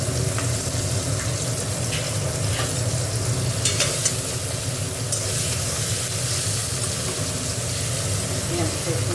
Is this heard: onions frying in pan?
yes